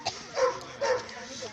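A Kohati Gultair dog in Faisalabad gives two or three short, fairly faint barks and yips in quick succession, with people talking in the background.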